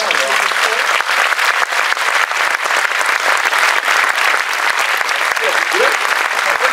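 Audience applause fills a festival interview venue, steady dense clapping that runs loud and unbroken throughout with some crowd noise mixed in.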